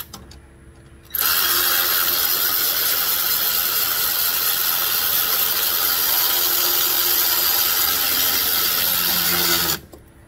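A ratchet tightens the alternator adjusting nut on a 2014 Kia Soul, giving a steady, loud, continuous mechanical whir. It runs for about nine seconds close by, then stops abruptly.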